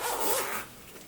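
A skirt zipper is pulled open during sewing, a brief close rasp lasting about half a second, then quiet handling.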